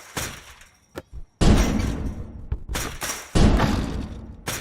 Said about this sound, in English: Like a gunshot.